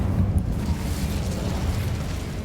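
The Incendio fire spell is cast in Hogwarts Legacy, a loud continuous roaring whoosh of flame with a rumbling low end, steady for a couple of seconds with no talking.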